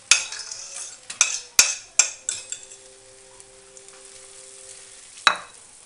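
Potato omelette mixture hits a hot IKEA frying pan with a steady close sizzle, punctuated by several sharp clanks of a utensil against the pan early on and one more near the end.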